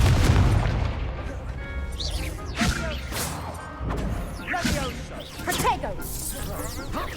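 Confringo blasting spell from the Hogwarts Legacy video game: a series of booming explosions and whooshing bursts in quick succession, loud and punchy, mixed with game effects and a voice speaking over them.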